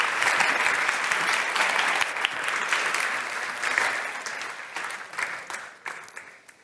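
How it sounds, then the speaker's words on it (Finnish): Sustained applause from a business-event audience after the introduction of a panel of company representatives, dense steady clapping that gradually thins and fades toward the end. "Annetaan yhteensä aplodit."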